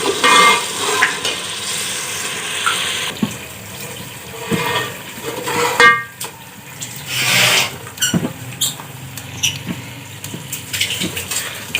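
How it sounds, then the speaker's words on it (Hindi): Browned onion is stirred into a bubbling fish salan masala, with continuous wet scraping, squelching and sizzling from the pot, close and fairly loud, with no talking. "जो प्याज ब्राउन किया था, अब ये इसमें मसाले में मिलाया जा रहा है।"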